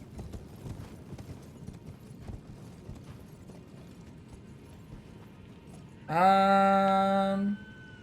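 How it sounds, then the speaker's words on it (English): Horse hooves clip-clop in a soft, rapid patter while riding in Elden Ring, followed near the end by a sudden loud, sustained tonal chime that cuts in over the hoofbeats. "Oh, I can use my horse."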